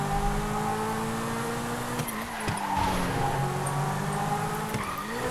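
Car being driven in the GTA 5 video game on rainy city roads, with a steady engine drone rising and falling in pitch and occasional tire skid sounds, moderately loud and continuous with no talk.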